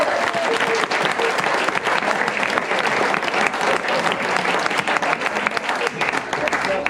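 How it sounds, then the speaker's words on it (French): A live comedy show audience breaks into loud, sustained applause for a man named Geoffrey, a dense wash of clapping that fills the room from start to finish, with a few crowd voices mixed in. "On applaudit bien fort Geoffrey"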